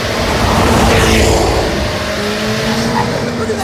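A 1,000-horsepower Corvette C8 race car accelerates hard on a track, its engine roaring loudly and steadily with rising pitch, heard from close by for the whole few seconds.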